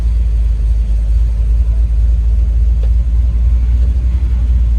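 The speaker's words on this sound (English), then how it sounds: "Idle's great. We're at 900 RPM." A 1972 Ford F-250 Ranger 4x4 idles at about 900 RPM with a steady, loud, deep rumble throughout and no talking.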